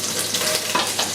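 Celery sizzling and frying in extra virgin olive oil as the base of a sofrito for lasagna, a steady close hiss with brief stirring scrapes and no talking.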